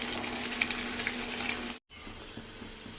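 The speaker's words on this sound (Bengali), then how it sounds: "মাছটা ভাজছি, এদিকে একটা ভাজা হয়ে গেছে।" Fish sizzles and crackles steadily in hot oil in a pan, a close, continuous frying hiss that cuts out briefly and then resumes more quietly.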